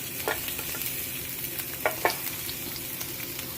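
Chopped onion sizzles steadily in a hot skillet for a turkey dish, a constant frying hiss with a few soft stirring scrapes near the start and middle. No one speaks.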